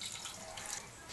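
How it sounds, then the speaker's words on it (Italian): A short, steady splash as a little over half a glass of water is poured from a glass over strawberries and sugar for a strawberry tiramisu, heard close and alone. "andiamo ad aggiungere un po' più di mezzo bicchiere d'acqua"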